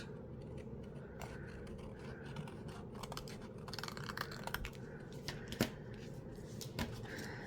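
Scissors trim paper for a butterfly mini album, a quiet run of snips and crisp paper rustles, with several sharper cuts near the end, up close with no talking.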